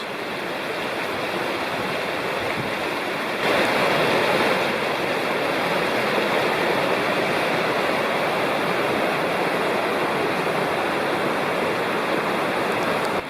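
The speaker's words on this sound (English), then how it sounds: "Sycamore Creek at about 2 miles." Sycamore Creek in the Cherokee National Forest flowing beside a trail, a loud, steady rush of water that fills the whole stretch without pause.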